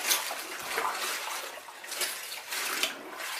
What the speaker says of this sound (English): So I'm just going to sort of rinse this through.